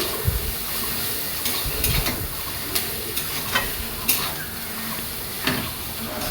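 Chowmein is tossed and mixed in a hot pan, with steady low sizzling and intermittent scraping and clanks from the spatula, close and fairly quiet.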